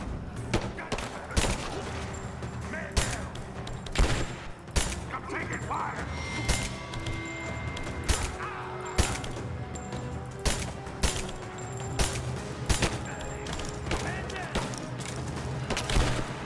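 Gunfire in the video game Rise of the Tomb Raider, repeated sharp shots scattered through a steady background rumble, moderately loud, with a player talking over parts of it.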